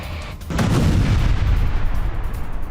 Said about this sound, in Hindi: ओडेसा की मल्टी स्टोरी रिहायशी इमारत से टकराया ड्रोन धमाके के बाद पूरे इलाके में अफरा तफरी